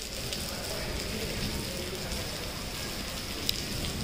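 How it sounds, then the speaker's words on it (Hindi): Steady rain falls outside, a continuous even hiss of drops on surfaces with faint crackling texture, holding at a constant level throughout with no talk. "तो यहाँ पे हो रही है बारिश"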